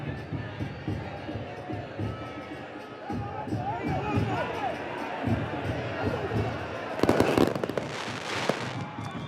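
Pyrotechnics go off at a football stadium during a Motagua vs CAI match, a burst of crackling pops near the end over crowd noise, with a commentator talking through most of it.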